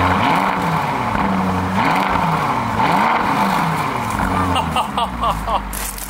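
A car engine roars loudly and close, revving in repeated rising and falling surges that hold steady for several seconds, with a brief higher whine near the end.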